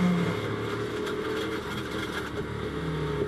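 A British GT race car at Snetterton with a failing gearbox or engine drones steadily throughout at moderate distance, with a rough, grinding, uneven mechanical tone and no clear revving.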